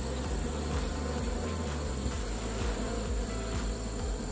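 Honey bees at an open hive make a dense, steady buzz, close and continuous, with individual bees droning past now and then.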